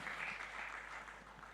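Church congregation giving warm applause during an online Sunday worship service, a steady wash of clapping, moderately distant and fairly soft, holding evenly across the moment without speech.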